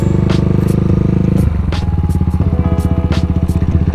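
Cafe400 motorcycle engine running loud and close at the start of an off-road ride near San Roque Dam, a steady rapid throb with rhythmic pulsing and a brief dip in revs before pulling away again.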